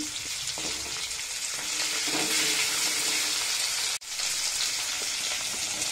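Potato, taro, radish, broad beans and eggplant fry over low heat in a pan seasoned with panch phoron, giving a steady, loud, dense sizzle that runs unbroken except for one sharp momentary drop near the end.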